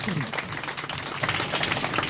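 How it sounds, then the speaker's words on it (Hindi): Crowd at a Shrimad Bhagavat Katha religious gathering in Varanasi applauding: a continuous patter of clapping from many hands at moderate loudness, with voices mixed faintly underneath. "इनका जोरदार तालियों से अभिनंदन करें, स्वागत करें"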